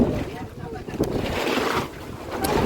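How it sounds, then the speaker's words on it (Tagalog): Strong wind gusting over a microphone outdoors in a village, a steady broadband roar that swells and dips over a few seconds, with faint voices in the background. "grabe, lakas ng hangin"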